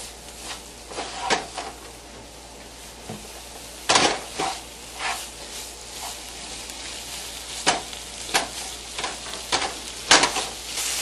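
Rice, peas and potatoes cook together in a pan with a steady soft sizzle, broken by repeated sharp clinks and scrapes of a utensil stirring against the pan, fairly close and without talk.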